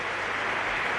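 A packed audience at Madrid's Teatro Real applauds after a song, a dense, even roar of clapping that fills the hall for about a second.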